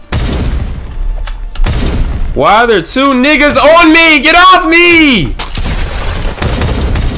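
Rapid gunfire and explosions in a video game shooter, with loud bursts of shots close up, running alongside a player shouting in the foreground and music in the middle.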